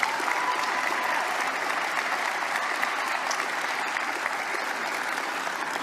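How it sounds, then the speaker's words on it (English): Sustained, steady applause from a large audience at an evening senior sports awards ceremony honoring award-winning athletes, dense and even throughout with no break. "Let's have a big round of applause for all our award winners this evening."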